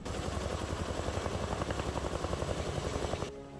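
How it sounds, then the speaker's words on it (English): A firefighting helicopter carrying a water bag over a forest fire, rotor thumping steadily in rapid rhythmic pulses with a droning engine, fairly loud and close, then abruptly fading lower at the end. "helicopters have to carry water bags into the scene"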